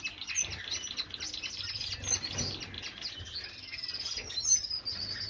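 Small Gouldian finches chirp and twitter busily, high-pitched calls overlapping close by, with soft wing flutters now and then.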